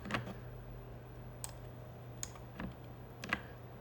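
Keys tap on a computer keyboard while entering Ctrl C and CLS in a command prompt, a handful of light, sparse clicks spread out over faint room hiss, close and quiet.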